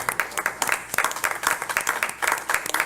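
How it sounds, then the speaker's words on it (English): Steady applause from a small crowd at a county board of education meeting, with individual claps clearly audible in a brisk, uneven rhythm, close and moderately loud throughout. "I think he deserves some round of applause."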